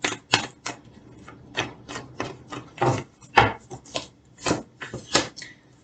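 Tarot cards laid out one after another in a three-card spread, giving a series of close, crisp card slaps and brushes across a table at an irregular rhythm, with no voices.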